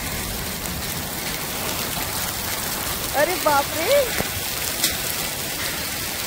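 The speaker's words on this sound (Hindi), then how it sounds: "इतने सारे बर्फ के ओले गिर रहे हैं।" Heavy hail and rain pour down steadily in a dense, hissing patter that runs the whole time, with a person briefly exclaiming partway through.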